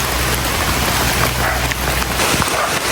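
Heavy rain pours steadily during a banana harvest outdoors, making a dense, loud, unbroken hiss close by with no voices.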